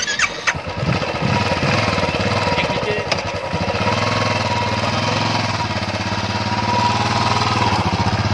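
A heavy motorbike engine runs steadily and loudly close by for the whole stretch, its throbbing low note shifting slightly in pitch, with no talk over it.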